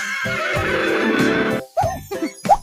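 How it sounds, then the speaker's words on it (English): A horse gives a loud, close, sustained neigh, followed by a few short snorting breaths, with no voices. "H for horse."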